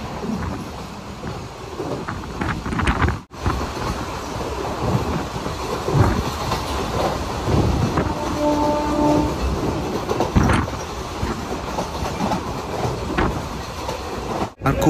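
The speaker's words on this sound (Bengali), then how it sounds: "ট্রেন এখন ঢুকছে কাকদ্বীপ স্টেশন" A passenger train runs toward Kakdwip station on the line south from Kolkata, its wheels rumbling and clacking continuously on the rails in a steady, loud roar from on board, with a brief dip near the end.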